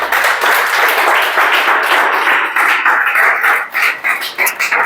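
A classroom audience claps together on cue during a Chhattisgarh police sub-inspector exam coaching lecture, a steady dense patter of hands lasting several seconds before thinning into scattered claps.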